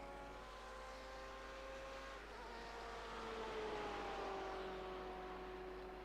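A BMW M8 GTE race car in a racing video game, its engine droning steadily on track with a rising and falling pitch, faint and distant in the mix.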